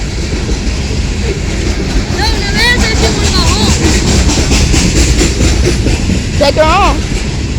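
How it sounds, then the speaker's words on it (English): A CSX freight train rolls past at Cooper Avenue with a steady, loud rumble and rail rattle, while people nearby talk over it. "Now we get to finally see trains from over here."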